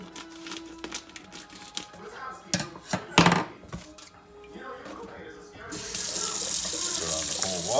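Cold water runs from a kitchen tap into a sink to rinse a cured pork belly, a steady broadband splash rising near the end after scattered clatter and handling noises, with some talk nearby.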